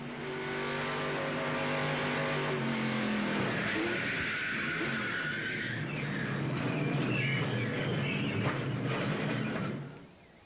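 Racing engines scream past as a race truck crashes during a 1996 Coca-Cola 200 race, with skidding, scraping and a rough mechanical clatter before the noise cuts off abruptly.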